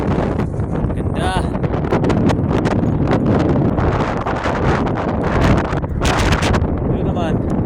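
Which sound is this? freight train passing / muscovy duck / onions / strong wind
strong wind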